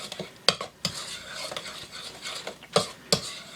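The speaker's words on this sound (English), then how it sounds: "So, I'm going to mix this up." Crazy crust peach cobbler batter mixed in a bowl, stirring scrapes with several sharp utensil knocks against the rim, close and moderately loud, no voices.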